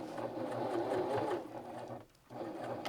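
Sewing machine stitching a folded jeans hem, running steadily and close with a busy mechanical whir, briefly pausing near the end before starting up again, with no talking.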